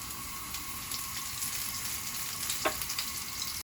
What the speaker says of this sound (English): And then we can start putting the spring onion and garlic into the fry pan.